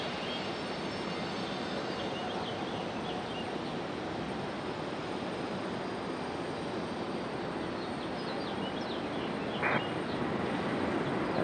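A Southwest Boeing 737 MAX 8 jet landing at Raleigh-Durham International Airport on a stormy day, a steady broad engine roar holding close and loud for the whole stretch, with no voices.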